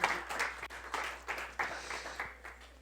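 A church congregation claps during worship, soft, uneven bursts of hands swelling and fading in quick waves, fairly faint and with no talking over it.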